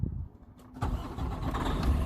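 A vehicle engine cranks briefly, then catches and settles into a steady, rough idle that grows slightly louder toward the end, heard close up with no talking.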